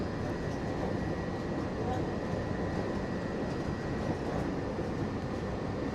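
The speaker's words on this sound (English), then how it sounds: "Monorail races." Disney World monorail train running past Bay Lake Tower at the Contemporary Resort, a steady broad rumble and rolling drone heard throughout with a voice over it, no distinct approach or fade.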